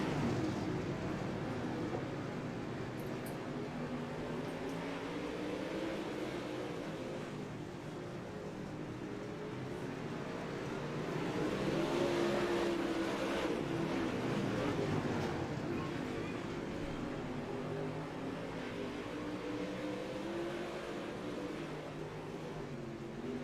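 A field of race cars roars off at the green flag on an oval, engines droning in a dense, steady wall of sound that swells midway and holds throughout.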